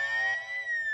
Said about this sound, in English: Ghost, you can also hear these sirens in the background.